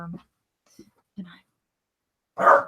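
A few short, scattered dog barks and yips in the distance, then a louder, closer bark, with quiet gaps between them.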